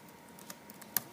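Computer keyboard being typed on, a handful of quiet, irregular key clicks over faint room noise, ending with one sharper tap, no talking.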